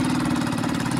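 Motorbike engine sputtering as it tries to start and cuts out, a steady mid-pitched mechanical drone with uneven knocking pulses, close and fairly loud, no talk.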